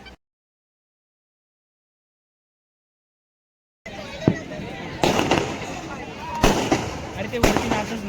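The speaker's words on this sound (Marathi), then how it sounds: "इथे फटाक्यांची आतिषबाजी सुरू झालेली आहे" Diwali fireworks display at Mandvi, Ratnagiri, breaking out after a silent gap into a dense crackle of firecrackers with several loud, sharp bursts echoing nearby, while people talk and shout in the crowd.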